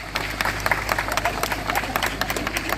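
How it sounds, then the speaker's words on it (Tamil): An audience applauds at a speech event, with dense, steady clapping from many hands that carries on without a break. "கைதட்டுங்க அவருக்கு"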